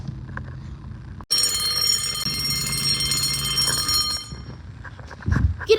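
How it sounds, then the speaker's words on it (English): After a sharp click, a school fire alarm bell rings loud and continuous for about three seconds before cutting off, leaving shuffling and handling noises. "I'm gonna pull the fire alarm"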